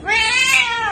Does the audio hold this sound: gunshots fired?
no